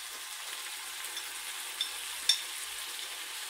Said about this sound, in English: putting in the jalapenos now.